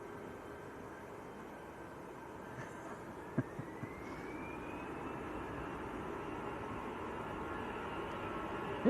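A Jet2 airliner takes off at Manchester Airport, heard as a distant, steady broadband jet engine roar with a slowly rising whine, faint and continuous with no talk over it.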